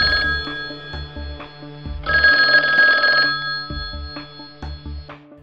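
An old-style telephone bell rings in loud repeated bursts, interrupted by short pauses, with a longer trill in the middle.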